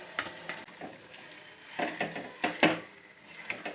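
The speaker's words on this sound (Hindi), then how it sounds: "अब मैं डाल दे रही हूँ इसके अंदर उबले हुए आलू।" A spoon scrapes and stirs boiled potatoes into frying masala in a pan with soft sizzling, in irregular bursts of clattering strokes.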